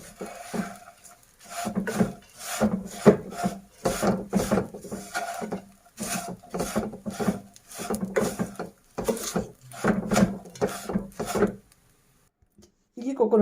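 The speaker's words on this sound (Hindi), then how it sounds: "ये कोकोनट अच्छे से मैंने भून लिया था" Grated coconut and gond being roasted in a pot, with rhythmic scraping and rubbing strokes of a utensil against the pot in repeated bursts, then a quiet stretch near the end.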